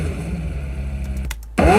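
McLaren Senna engine recorded from three mic points for Forza Horizon 4, a steady low rumble that drops out briefly near the end, then returns louder with a rising whine.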